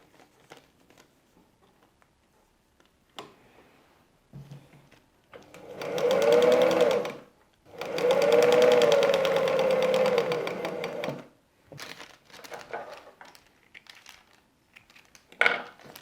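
A sewing machine stitches along a perforated paper-piecing line for a patchwork block, two loud sustained whirring runs separated by a short pause, with scattered handling clicks and rustles of fabric and paper before and after.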